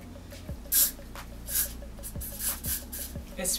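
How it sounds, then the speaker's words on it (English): Several short hissing bursts of hair glue spray, close by, with faint breathy sounds and light handling noises between them. "I'm just gonna take the Got To Be glue spray"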